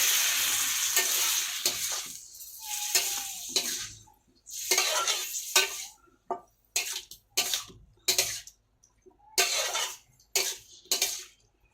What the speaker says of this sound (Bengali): অল্প একটু জল দিয়ে ভাজবো, যেহেতু শুকনো হয়ে যাচ্ছে একটুখানি অল্প অল্প দিয়ে মশলাটা কষিয়ে নেবো।